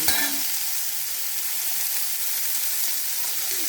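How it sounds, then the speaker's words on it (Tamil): Chopped onion and green chilli sauté in hot oil for a cauliflower poriyal, giving a continuous, even sizzle close by, with a brief clatter right at the start and no talking. "பச்சை மிளகாயும் வெங்காயம் இதோ இதில் போட்டு நல்லா வதக்கி"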